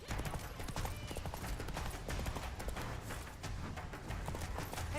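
Roach the horse galloping in The Witcher III: fast, continuous hoofbeats in a quick rhythm at moderate volume, with faint game sounds underneath.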